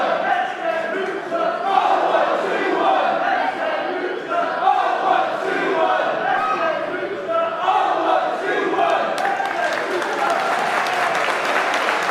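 Crowd at a live wrestling show featuring Samuray del Sol, split in support and cheering and clapping steadily throughout, a dense, loud roar with shouts and applause and no break.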